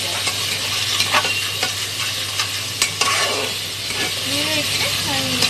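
Ginger garlic paste frying with a little water for a pressure-cooker egg and potato biryani, a steady close sizzle with scraping stirs throughout and a few sharp clinks, no talking.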